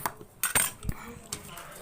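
A spoon clinks against a dish while Maggi noodles are being eaten, a few sharp metallic taps spaced irregularly, close and moderately loud.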